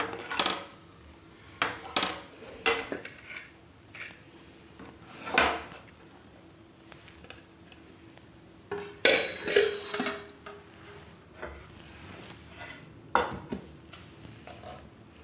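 Dishes and cutlery clinking as kofta in gravy is plated, scattered close taps and scrapes of a spoon on plates and bowls with quiet gaps between bursts, no voices.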